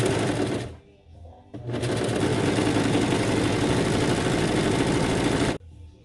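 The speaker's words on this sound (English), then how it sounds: "This is a Singer Professional 5 cover stitch and serger." A Singer Professional 5 cover stitch serger runs in loud, fast mechanical bursts while sewing elastic: a short run, a brief pause, then a long steady whirring stretch before it stops.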